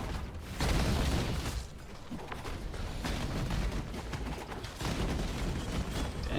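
Rapid, dense bursts of explosions and booming blasts in a video game, loud and continuous with heavy low rumble and no pauses.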